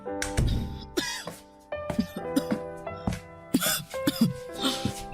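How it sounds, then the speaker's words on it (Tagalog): Close, repeated coughing fits, harsh and raspy, come in several bursts with short pauses between them. "ang tindi ng ubo niyo."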